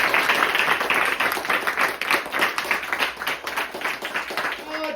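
An audience at a Shiv Jayanti celebration claps to welcome guests, a dense burst of applause that stays loud through most of the stretch and then thins toward the end, with a voice speaking over it.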